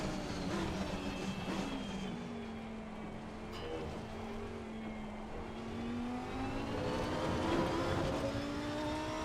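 Race car in Assetto Corsa Competizione lapping a wet track, engine droning steadily with rising and falling pitch as it accelerates and shifts, constant tyre spray and road noise throughout, loud and close with no talking.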